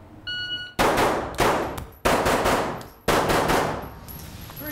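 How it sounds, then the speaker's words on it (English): Four loud gunshots ring out at a shooting range aimed at targets, spaced about a second apart, each with a sharp crack and reverberant tail, preceded by a beep timer tone. "Okay, three shots per target."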